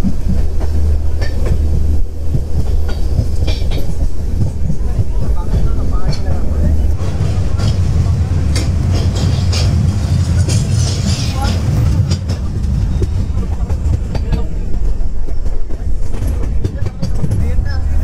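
Tourist special train with a Vistadome coach rolling through the Dooars toward Chalsa station, its steady low rumble and rail clatter loud and continuous throughout, with voices talking over the running noise.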